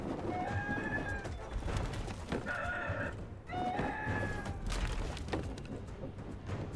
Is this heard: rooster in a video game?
yes